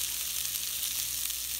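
Food fries in a single pan on a home stove, a steady, dense sizzle at close range with no talking.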